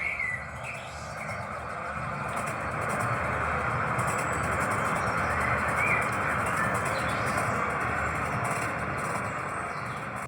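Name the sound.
train pulling into the station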